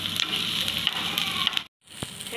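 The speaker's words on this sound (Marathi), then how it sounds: "आपण सिमला मिर्च टाकूया." Capsicum and onion frying in a pan, a close, steady sizzle broken by a brief silent gap and then resuming, with no talking.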